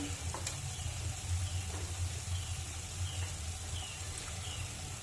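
Ground spice paste with eggplant frying in a pan, giving a soft, steady sizzle with faint crackles and occasional stirring ticks throughout, fairly quiet and alone.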